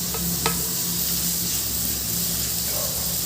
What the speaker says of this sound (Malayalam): ഇതിലേക്ക് നമുക്ക് എല്ലാം കൂടി നമുക്ക് വറുത്തെടുക്കാം